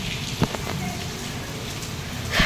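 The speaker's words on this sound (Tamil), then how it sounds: "மழை எப்படி பெய்யுதுன்னு இப்போ தான் நின்று இருக்கு பாருங்கள்" Steady rain patters in a broad hiss outside a hospital, with a few sharper drips and knocks standing out; no speech is heard.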